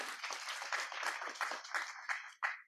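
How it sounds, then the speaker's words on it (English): Audience applauding a panel at a forum on the future of Penn Station, a brief burst of many hands clapping that quickly tapers off. "So let's give them a round of applause"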